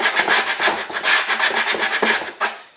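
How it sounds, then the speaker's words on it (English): A Great Plains hand sander loaded with 180 grit sandpaper rubs back and forth in the tube slots of a rocket booster section, giving a steady rapid series of close, raspy strokes with no talk. "this Great Plains hand sander. Just with some 180 grit right here, this sander easily fits in the tube slots"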